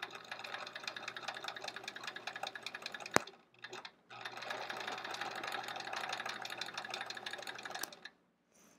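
A sewing machine doing free-motion quilting along the edge of a sampler quilt runs in a fast, steady stitching whir, with two long bursts separated by a brief pause and a sharp click.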